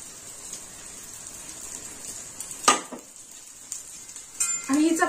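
Egg chapati fries in oil in a pan, a steady soft sizzle with a brief utensil scrape and clatter partway through and louder crackling toward the end.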